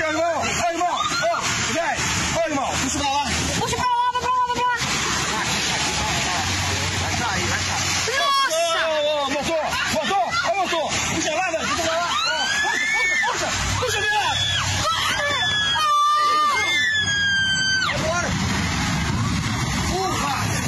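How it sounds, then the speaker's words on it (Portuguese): People on other boats scream warnings from a distance just before a rock falls onto boats below. Their high, wavering cries rise over a constant broad rush of background noise, and other voices shout throughout. "O que se ouve segundos antes de a pedra atingir os barcos são gritos de pessoas de outras embarcações."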